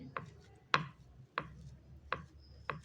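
Cooked rice is mashed soft for curd rice, with about five soft, evenly spaced squishing strokes against a vessel, close and quiet with no talk.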